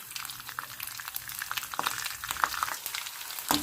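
Chana dal, urad dal, curry leaves and cumin fry in a pan, making a close, crackling sizzle with quick pops and a few louder spatters near the end.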